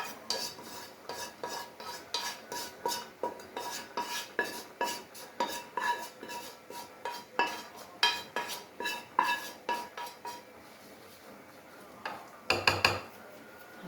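Onions go into a pot for Egyptian koshari and are stirred, a steady rhythm of metal spoon scraping and clinking against the pot with a soft sizzle, repeating for about twelve seconds before a few louder knocks.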